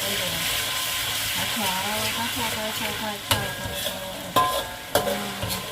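Minced garlic sizzling and frying in a pan with steady hiss, stirred by hand, with occasional clinks of a utensil against the pan.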